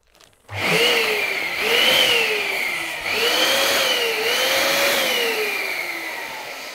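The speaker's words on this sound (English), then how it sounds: "now we're going to inflate the reflex and the clears will expand with it" A balloon is inflated by a pump for a gender reveal popping design, starting after a brief click with a loud, close whining drone that rises and dips in pitch in several surging waves.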